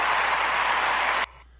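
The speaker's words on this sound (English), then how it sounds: "A big round of applause" Audience applause, a dense, even burst of clapping that holds steady and then cuts off abruptly, leaving near silence.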